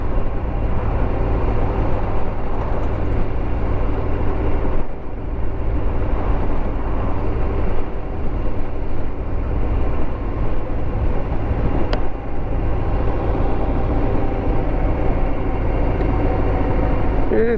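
Harley-Davidson Sport Glide 107 motorcycle ridden two-up in third gear at around 30 mph, a steady loud engine rumble mixed with wind and road noise that continues unbroken throughout.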